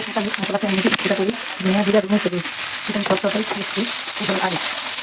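Vegetable bhaji frying in oil in a pan with mixed spices and no water gives a continuous bright sizzle, with a voice talking over it throughout.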